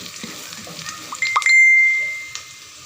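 Onions frying in a pan for a chicken curry, a soft sizzle under light stirring, broken by a sharp metallic ding and a longer ringing clatter midway, close by.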